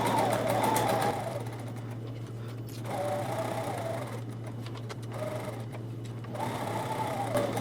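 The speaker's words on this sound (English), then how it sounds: "all you have to do is sew right on the line" A sewing machine stitches quilt rectangles along a marked line for a Quick Points ruler project. Its steady whirring runs in several bursts with brief pauses between, fairly close and alone, with a constant low hum underneath.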